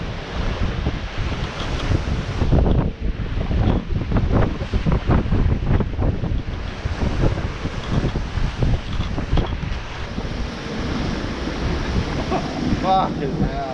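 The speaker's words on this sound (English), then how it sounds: "Getting windy." Strong wind roars and buffets the microphone on a sailing boat at sea in about 20 knots of wind, with rushing ocean waves and hull wash underneath in a steady, loud, close wash of noise.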